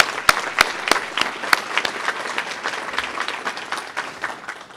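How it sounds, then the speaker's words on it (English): An audience applauds at a United Way annual meeting, a few sharp nearby claps standing out over the steady crowd applause, with some background voices. "So big round of applause for UPS and what we do for the community."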